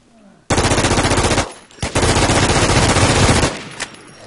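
A machine gun fires in a zombie shooter game, loud and close, in two long sustained bursts of rapid shots separated by a brief pause.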